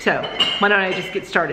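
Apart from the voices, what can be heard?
cups and dishes clinking while someone washes dishes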